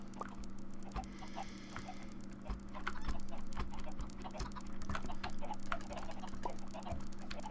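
Chickens on a laggy chicken farm in the video game Minecraft cluck in a steady scatter of short clucks, close and moderately loud, layered over a constant low hum.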